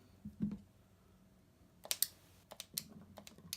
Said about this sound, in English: I can dice this cheese up as small as I want.